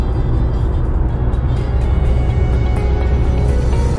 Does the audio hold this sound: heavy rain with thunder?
no